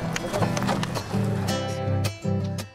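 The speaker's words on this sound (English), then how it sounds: "Like half the gauchos here, Finia transports supplies to the refuges using pack horses" Pack horses carrying supplies to mountain refuges in Patagonia walk with close, rhythmic clip-clopping hooves over a low rumble, with a few sharper knocks near the end.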